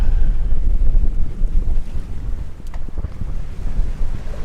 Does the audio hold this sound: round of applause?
no